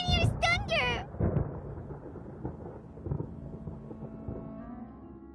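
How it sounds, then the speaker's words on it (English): Thunder rumbling in the video game Genshin Impact, a low rolling boom that swells early and then decays into a long, fading rumble, with a brief high tonal flourish at the start. "Paimon hears thunder!"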